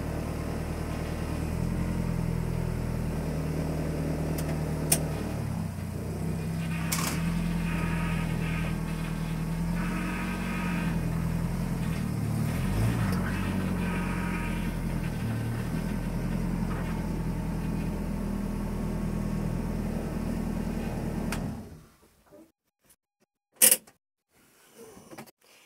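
A Citroën Saxo's small engine idles steadily in cold weather with a low, even rumble, close by and with no talk. About 21 seconds in it cuts off, leaving near silence broken by a few faint knocks.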